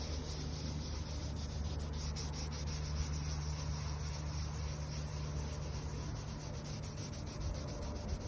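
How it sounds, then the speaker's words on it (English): Abrasive rubbing compound scratches steadily against a car headlight lens, a continuous close-up scuffing and rubbing with no pauses and no talk. "Hear it scratching, scuffing."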